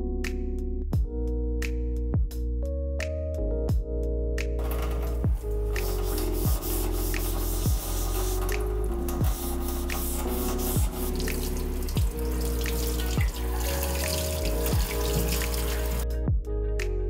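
Wooden cutting boards are washed under a running tap at a sink, with steady splashing water broken by regular rubbing and knocking strokes as the boards are scrubbed and turned, close and loud.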